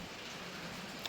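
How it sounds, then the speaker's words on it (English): Rain falls steadily outdoors on an antique tractor farm, a soft continuous hiss with faint scattered ticks of drops and one brief sharper tap near the end. "Luckily I was able to get them inside because we've got rain again."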